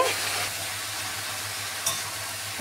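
Taro fritters half-frying in a pan give off a steady, even sizzle that holds close and constant, with a faint clink partway through and no talking.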